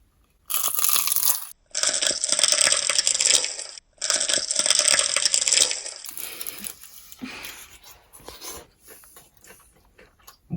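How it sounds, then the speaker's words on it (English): Three loud, crackly crunches of biting into a crisp homemade spring roll, each a second or so long, followed by quieter chewing up close. "listen for the crunch"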